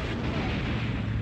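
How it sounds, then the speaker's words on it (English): A short, loud burst of artillery fire striking a Panzer IV tank in the Sudden Strike wartime strategy game, a heavy rumbling blast that fills the whole moment. "Okay, artillery. Hit that Panzer IV."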